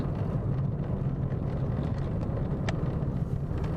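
An Opel Vectra A engine working on a winding mountain road, a steady low droning rumble from inside the car with broadband road and wind noise, holding even throughout.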